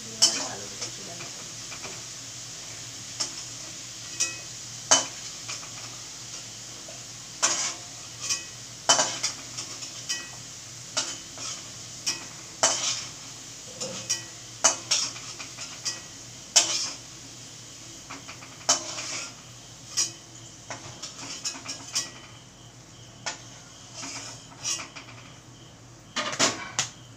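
Potatoes frying in oil on a low flame, a soft steady sizzle broken by frequent sharp clinks and scrapes of a metal spoon lifting them out of the pan.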